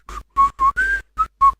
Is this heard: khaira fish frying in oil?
no